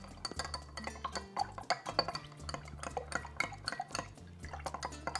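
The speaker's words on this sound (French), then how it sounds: "Donc, gin, vodka. On va mélanger un peu." A spoon stirs an Agua de Valencia cocktail made with gin and vodka in a glass jug, producing quick clinks and gentle liquid swirls close by.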